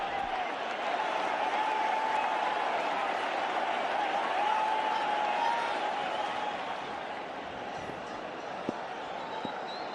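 A cricket crowd at a Border-Gavaskar Test match roars and cheers after an LBW wicket, a sustained wash of stadium noise that swells early and eases slightly toward the end, with commentary voices over it.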